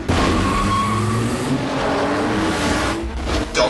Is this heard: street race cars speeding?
yes